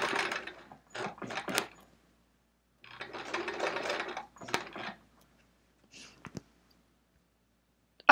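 Sewing machine free-motion quilting elongated swirls, running in short uneven bursts with gaps of silence and a few mechanical clicks, close by.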